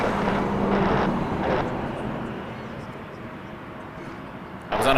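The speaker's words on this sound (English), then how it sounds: "Border 407 headed to Edmonton on an Embraer E195 E2" Flair Embraer E195-E2 jet bound for Edmonton at Toronto Pearson, a continuous engine rumble beneath a speaking voice that fades out early, the drone easing then rising again at the end.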